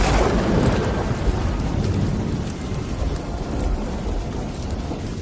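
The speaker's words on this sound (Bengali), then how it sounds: "আর শুধু ঝড় বৃষ্টির মধ্যে বজ্রপাতের তীব্র শব্দ শোনা যাচ্ছিল।" A nighttime thunderstorm over a dark jungle road: heavy rain pours steadily while deep thunder rumbles throughout, loud and close, with no talking.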